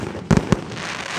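Canada Day fireworks burst in a quick cluster of three sharp booms against a constant crowd-like rumble.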